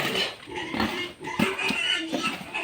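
Pigs on a vermicompost farm grunt and oink nearby, a steady overlapping chorus of snorts and squeals from several animals, with a louder squeal in the middle and faint voices in the background.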